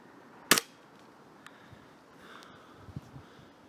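A Gamo air rifle fires a 4.5 mm match pellet: a single sharp crack near the start, then quiet with faint small handling sounds.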